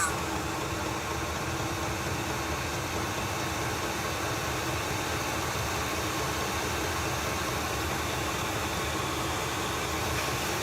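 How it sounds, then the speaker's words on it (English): A diesel parking heater installed in a shuttle bus RV conversion blows hot air in a steady, close, continuous broadband whoosh that holds evenly throughout, with no voices. "That noise you're hearing is just this air blowing out right here."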